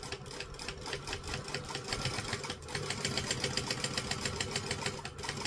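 A sewing machine runs steadily at a 2.5 joining stitch length, seaming pieces of a Dollie by Swoon doll together, its fast, even needle rattle continuous and close, growing slightly louder halfway through with no talking.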